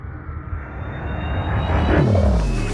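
A spaceship engine throttles up in Elite Dangerous near a megaship, a low rumbling roar that swells steadily and rises in pitch over a few seconds, close and fairly loud.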